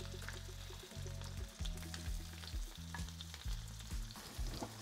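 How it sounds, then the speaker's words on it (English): Shrimp coated in Cajun jerk sauce and a squeeze of lemon sizzle in a pan just after being flipped: a close, crackling fry with soft stirring movements and a low background hum. "So our shrimp are ready for their first flip."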